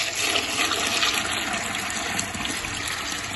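Water pours steadily into a pot of white beans (lobia) set to soak overnight, a continuous close splashing gush with no talk.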